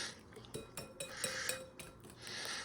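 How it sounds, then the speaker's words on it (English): A hand whisk knocks and clinks against a bowl while mixing farm-fresh eggnog, a few sharp taps and scraping strokes at close range, fairly quiet with no talking. "I chose to do this with just my whisk."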